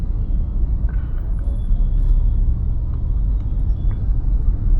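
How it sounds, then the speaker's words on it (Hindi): A car drives with steady low engine and road rumble as the driver shifts from second gear straight up to fourth, the drone continuous and close with no talk. "यहां पर अब मैं सेकंड गियर पे हूं, मैंने स्पीड को तेज किया, ठीक है, डायरेक्टली मैं फोर्थ गियर पे शिफ्ट कर गया"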